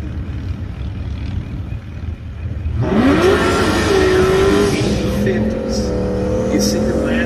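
A drag race car with a Frankenstein-built engine wearing ten cylinder heads and an F1A94 Procharger roars up in a loud, rising, sustained drone at a drag strip, heard over steady background crowd noise.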